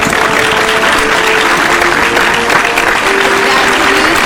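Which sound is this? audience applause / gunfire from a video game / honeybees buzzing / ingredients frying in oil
audience applause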